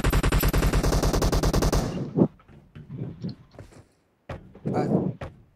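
Rapid machine-gun fire in a mobile shooter game, a loud rhythmic burst of evenly spaced shots lasting almost two seconds, then scattered thuds and softer bursts while a player talks.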